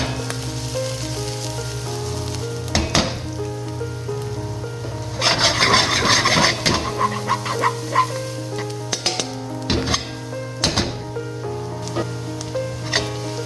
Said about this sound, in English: Constantly stir your garlic so that they don't burn.